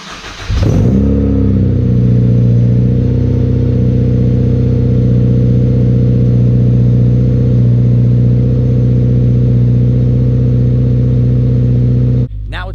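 Dodge Hellcat V8 cold start: a quick cranking catch, then the engine fires and settles into a loud, deep, steady high idle that holds close and constant before cutting off near the end.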